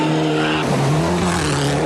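A Marley Mitsubishi Evo 6 rally car attacks a special stage at Rally Rotorua in the 2001 New Zealand Rally Championship, its engine roaring loud and close with shifting revs and a touch of tyre squeal.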